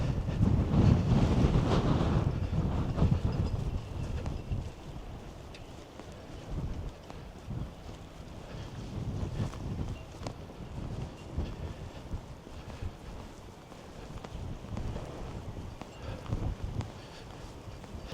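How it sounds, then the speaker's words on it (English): Gusty wind at a Scottish seaside town buffets the microphone and rattles boat rigging cables, rising strongly at first and then easing into a restless, uneven blow. "I love listening to the wind rattling through the cables on the boats"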